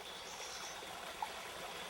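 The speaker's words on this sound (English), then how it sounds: "At the bottom of this canyon is San Mateo Creek." San Mateo Creek, a wild, undammed Southern California creek, flows at the bottom of a canyon, heard as a steady, faint, distant rushing hiss of water with no voices.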